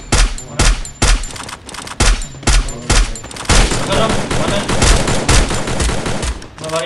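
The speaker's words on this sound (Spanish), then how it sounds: "Vienen los disparos desde el cielo" Rapid bursts of gunfire in a video game battle, loud volleys and sustained automatic fire crowding together, with excited voices talking over the shooting.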